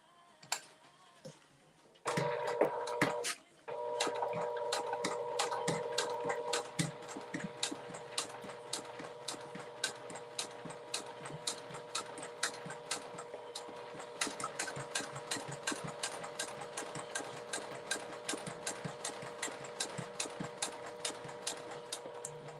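A sewing machine stitches fabric for a notebook holder, first in a short loud burst, then running steadily in a fast, even ticking rhythm of needle strokes that carries on for about twenty seconds, close by and with no talking.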